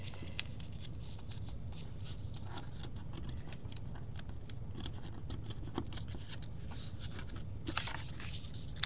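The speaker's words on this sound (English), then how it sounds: "this is just paper ripping" Paper is torn in a long, continuous scratchy rustle with small crinkling bursts, close and fairly quiet, alone with no talking.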